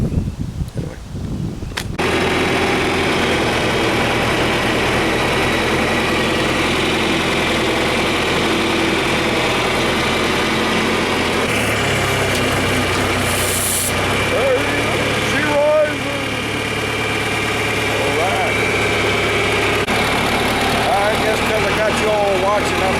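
Classic John Deere tractor engine idling close by at a steady, heavy low rumble. Someone talks over the engine for most of the clip.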